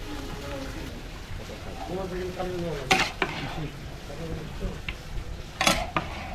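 A pot of beef curry with onions and chuijhal is stirred, with scraping and metallic clinks against the pot over a low sizzle while people talk nearby.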